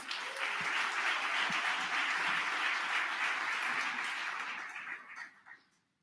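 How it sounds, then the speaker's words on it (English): Audience applause fills an honoring ceremony for Malcolm X, a dense, steady roar of many hands clapping at close range that holds for several seconds before tapering off and fading out near the end. "Another round of applause, please."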